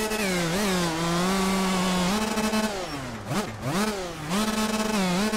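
KX65 dirt bike engine in the MX Bikes racing game, buzzing loud and high-pitched at a BMX track, holding steady revs, then dipping and surging back up as the throttle is blipped, with no talk over it.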